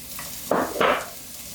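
Onion dropped into a hot pan of cooking peppers gives two quick bursts of close sizzling that fade back to a quiet hiss.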